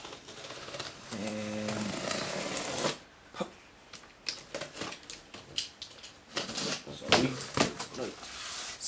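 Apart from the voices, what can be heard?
cutting open a monitor box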